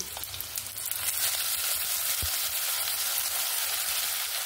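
Ground spice paste hits a hot pan of onion and tomato for a jackfruit and prawn curry, a steady soft sizzle and crackle of frying with a faint stir near the middle, heard alone and close.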